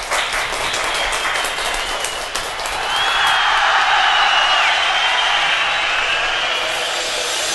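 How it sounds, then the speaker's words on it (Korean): An audience claps enthusiastically to welcome a cocktail-making performance by The Shake. Brisk claps fill the first few seconds, then give way to a louder, fuller crowd-and-music wash that carries on to the end. "더 쉐이크의 공연 힘찬 박수로 함께 할게요"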